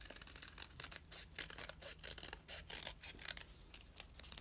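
Scissors snip repeatedly through paper while cutting out heart shapes, a steady run of close, soft rasping cuts with no voices.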